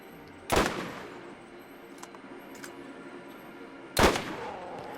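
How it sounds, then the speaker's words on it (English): Two loud, sharp sniper rifle shots in the video game Borderlands, spaced a few seconds apart, each with a ringing tail, plus a few faint clicks between them. "Man, this sniper rifle sucks."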